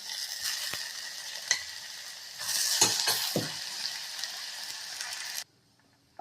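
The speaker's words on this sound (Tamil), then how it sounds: "நீர் பூசணிக்காய் போட்டுடலாம். வெள்ளை பூசணிக்காய்" White ash gourd pieces fry with onions in a pan, giving a steady close sizzle with scraping stirs and a louder burst midway, then cutting off abruptly to silence near the end.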